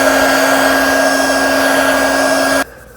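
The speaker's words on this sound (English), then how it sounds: "I might even throw the heat gun at it again real fast." A heat gun blows steadily on the back glass of a Samsung Galaxy S22, making a loud, even whirring hiss with a constant tonal hum that cuts off abruptly near the end.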